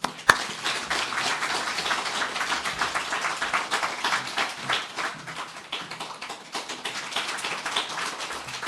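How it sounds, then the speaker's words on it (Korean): Congregation applause at a New Year's Eve church service welcoming a retired senior pastor, with a full room clapping steadily, loud and close, fading slightly toward the end. "우리 목사님 나오실 때 큰 박수로 환영하겠습니다"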